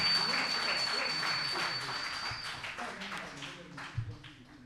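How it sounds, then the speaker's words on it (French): An audience applauds at the final of a best presenter contest, thick clapping that tapers off over a few seconds, with a brief voice near the end. "Sous vos applaudissements, s'il vous plaît."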